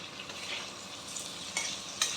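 Garlic chicken with spring onion greens is tossed in a hot pan, a soft continuous sizzle broken by a few scraping, clinking stirs, with no one talking.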